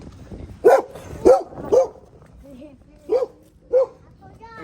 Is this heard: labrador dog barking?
yes